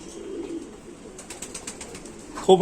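A prized fancy pigeon coos close by in a short, soft series of low throaty pulses, with a brief louder sound at the very end.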